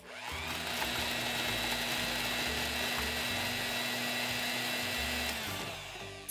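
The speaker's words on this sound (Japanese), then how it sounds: "さて、残りの3つも同様にそぎ落としてミキサーにかけていき" A blender purees corn kernels, its motor running loud and steady for several seconds with a grinding whir before stopping, and no voices.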